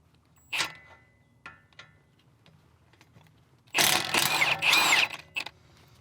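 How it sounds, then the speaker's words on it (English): A Snap-on ratchet wrench removing the 17mm nut from a Subaru sway bar end link, a few faint isolated clicks followed by a loud burst of rapid ratcheting close by. "we're gonna start off by removing the 17mm nut here on the sway bar end link"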